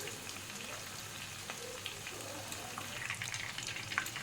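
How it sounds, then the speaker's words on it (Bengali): Steady crackling sizzle of chicken drumsticks frying in oil over a low gas flame, continuous and close, with small pops and spits scattered throughout. "গ্যাসের ফ্লেমটা এবার কমিয়ে আস্তে আস্তে চিকেনটাকে ভেজে নিতে হবে।"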